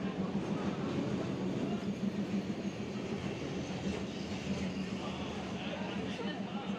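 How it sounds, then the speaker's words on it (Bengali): The Tungipara Express pulls into Kushtia Court railway station with a low, continuous rolling rumble under the bustle of a crowded platform, and people talk throughout. "এই যে টুঙ্গিপাড়া এক্সপ্রেস কুষ্টিয়া কোর্ট স্টেশনে চলে এসেছে"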